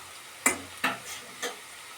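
Ginger paste and masala fry in a pan for a village-style fish curry, heard as three separate stirring scrapes under a low sizzle, close and fairly quiet, with no voices.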